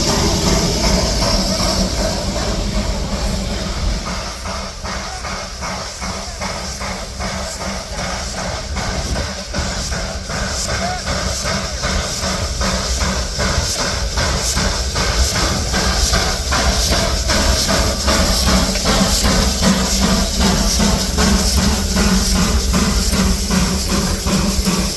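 Steam locomotive 202, a little saddle tank engine, runs to a siding with a continuous loud hiss of steam and steady mechanical rumble and clatter throughout, with no talk.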